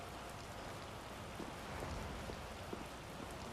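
Steady rain with wind from the video game Tales of Vesperia Definitive Edition, set in the town of Capua Nor, forms a dense, even hiss that holds at a constant level throughout with no voices.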